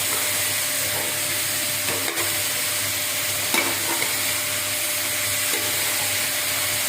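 Steady hiss of pumpkin curry cooking in a pan over low heat, with a few soft scraping strokes of a spoon stirring the contents, close and continuous.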